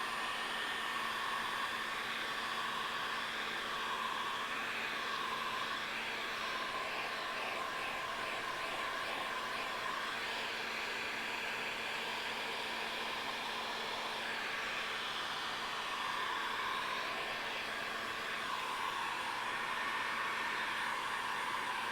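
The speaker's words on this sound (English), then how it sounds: "Heat gunning." A heat gun runs steadily for the whole stretch, a loud, even blowing roar with a constant hum and small shifts in pitch, and no voices over it.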